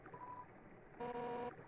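Phone dialing tones in the video game Undertale play as a short series of electronic beeps, a steady tone, a pause, then a brighter chord-like tone, heard clearly with no talk.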